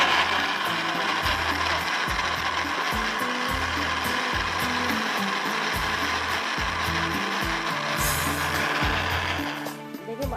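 A kitchen blender grinds yogurt, tomatoes and green chilies with a little water, a steady, close whirring roar with a choppy low-end pulse throughout, easing slightly at the very end.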